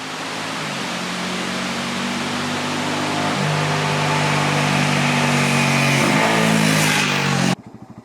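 Honda CL250 250cc motorcycle engine on a test ride, a steady pulsing drone that builds slightly with shifts in pitch, mixed with strong wind rush, then cutting away at the end.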